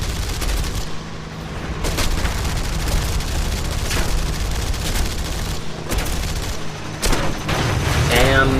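Dull booms and rattling bursts of gunfire from an aircraft attack run in War Thunder, several heavy thuds spaced through a constant engine-like roar, with a voice talking over the action.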